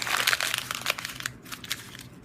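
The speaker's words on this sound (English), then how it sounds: "so now I'm gonna crumple it up" Close, crisp crinkling and crackling as paper is crushed in the hands, busy at first and then thinning out over a couple of seconds.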